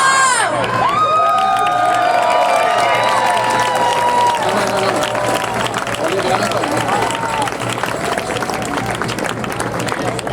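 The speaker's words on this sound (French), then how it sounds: "On applaudit ces beaux jeunes" Crowd of marchers at a Quebec solidarity march cheering and applauding young people, loud sustained clapping mixed with shouts and whoops, voices calling out over the din throughout.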